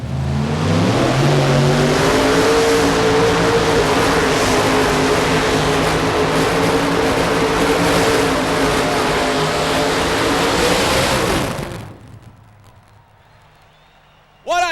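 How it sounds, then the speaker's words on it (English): Pulling tractor at a tractor pull event, 1993 National Farm Machinery Show: a loud, sustained high-revving engine roar holding steady for about eleven seconds, then cutting off abruptly, with a faint announcer-like voice under the noise. "Ladies and gentlemen, this tractor is very capable of a full pull."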